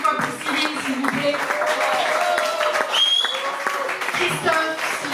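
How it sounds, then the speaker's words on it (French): Audience at a live concert at La Zonmé in Nice breaks into steady, sustained applause and ovation, clapping dense and continuous throughout with a voice speaking over it. "Une ovation encore une fois pour Cyril, s'il vous plaît"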